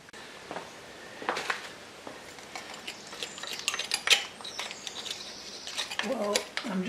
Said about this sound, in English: I'm just cleaning off the worst of the crud here